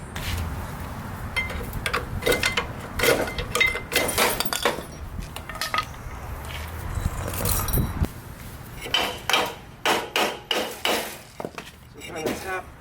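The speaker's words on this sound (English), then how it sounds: "So trying to tap those studs so you can get this rotor off." Hammer tapping wheel studs out of a trailer hub to free the rotor, a series of sharp metallic knocks and clinks, irregular at first and then a steady run of blows near the end.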